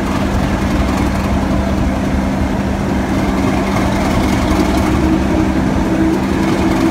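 A Class 37 diesel locomotive idles loudly and continuously, its heavy low engine drone steady and close throughout with no break or voices.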